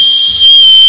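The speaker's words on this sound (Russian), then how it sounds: "У этого классного, моего любимого, оранжевого, яркого и удобного для автостопа рюкзака есть еще свисток," A whistle attached to a bright orange hitchhiking backpack gives one short, loud, piercing blast of a steady high tone, heard alone.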